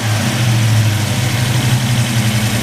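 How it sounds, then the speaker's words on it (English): A 1972 Chevrolet SS convertible with a roller-cam V8 idles steadily and loud up close, a deep rumbling burble with a lumpy, even pulse and no talk over it. "We're gonna go ahead and fire it up for you."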